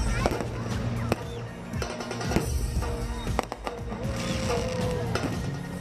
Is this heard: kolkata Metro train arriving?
no